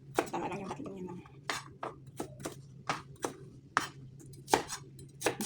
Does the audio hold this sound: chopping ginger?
yes